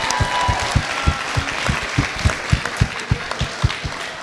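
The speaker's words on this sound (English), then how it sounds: "How about we have another round of applause for everyone that performed tonight" Audience applause at a Maynard's Got Talent 2015 talent show, a brief burst of clapping from a crowd with sharp, rapid irregular claps close by, sustained and fairly loud.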